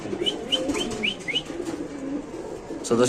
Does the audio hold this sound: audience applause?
no